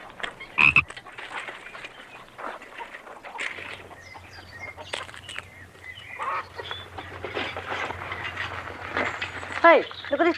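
A toad croaks in a few short bursts amid an outdoor scene, with low hums and scattered rustling in between and a louder croak near the end.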